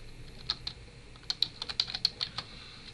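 Keys tapped on a computer keyboard while a password is entered, a short irregular run of light clicks in two bursts, close and fairly quiet with no voices.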